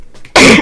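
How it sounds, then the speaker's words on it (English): A single loud, harsh cough rings out at close range, short and forceful, from someone indoors in the middle of unboxing a tarot deck. "Had to cough, sorry."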